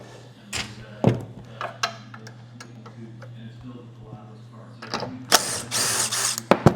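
Ratchet wrench clicking on a nut in the front suspension of a 1957 Chevy truck restomod, short bursts of close mechanical ticks with clanks of tools, busier toward the end.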